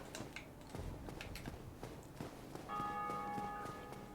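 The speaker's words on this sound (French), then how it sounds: "Bah ils en ont ici des cloches, ils nous parlent de cloches" Church bells ringing in the Dark Souls video game, a steady sustained bell tone entering partway through over scattered clanks and footstep-like game sounds, moderately loud.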